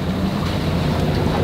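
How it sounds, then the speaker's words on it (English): Choppy, steep sea waves slap around a sailing boat on a swelly Mediterranean crossing, forming a steady, loud wash of water with wind rumble against the microphone throughout. "The waves are a bit steeper than usual because there's always a bit of current flowing into the Med"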